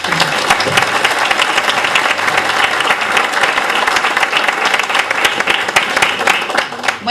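Warm, continuous applause from an audience welcoming Dr. Beatriz Mejía Mori to the lectern, a steady, close wash of many hands clapping that holds evenly until it thins right at the end.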